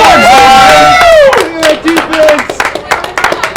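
A crowd at a Missouri wiffleball championship game cheers and shouts after a great defensive play for the second out, rising over a commentator's voice and continuing in loud, uneven bursts.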